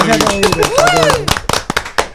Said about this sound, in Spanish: Aplauso para el Boti